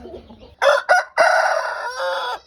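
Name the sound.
rooster crowing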